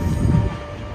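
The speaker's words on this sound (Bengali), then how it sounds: "এই যে আরেকটা ট্রেন যাচ্ছে" A train rumbles past in a Toronto neighbourhood, a loud low roar that swells through the first half and then fades into a steady, quieter rail hum.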